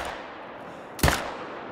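A single loud hunting rifle shot from the video game theHunter, set on the Sundarpatan reserve, cracks sharply and rolls off in a short echoing tail over quiet ambient game sound.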